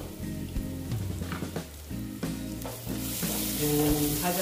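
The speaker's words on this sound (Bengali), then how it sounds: "ভাজাটা প্রায় হয়ে গেছে।" Pomfret fish fries in a pan with a steady sizzle, punctuated by intermittent clinks and knocks, growing slightly louder toward the end.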